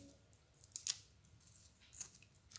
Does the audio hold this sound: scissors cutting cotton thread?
yes